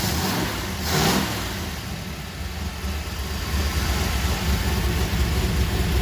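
A 1977 Chevy Camaro engine, which cannot rev up properly, runs steadily at a low rumble, with a brief swell of revving near the start before settling back to an even drone.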